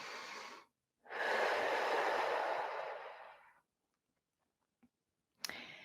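Deep, audible breaths taken during the Eden Method daily energy routine: one short breath, then a long, strong rushing exhale lasting over two seconds. A pause, a faint click and the start of another breath follow.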